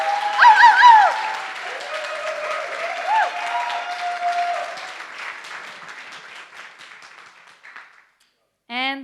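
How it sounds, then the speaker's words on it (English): Audience applause for the competing teams at a final pitch event, a sustained wash of clapping that fades gradually over several seconds, with a voice speaking over it near the start. "So just a final round of applause for all of the teams."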